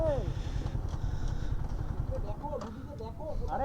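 A sports motorbike on a ride in Murshidabad gives a steady, close engine rumble throughout, with people talking over it.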